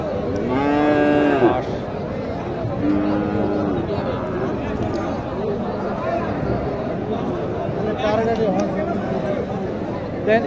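Cows, including Sahiwal heifers, moo loudly several times at a cattle market, long drawn-out calls rising over a busy crowd murmur, with people chatting in the background.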